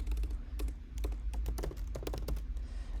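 Quick bursts of keystrokes while code is typed on a computer keyboard, crisp close clicks in uneven clusters over a low steady hum.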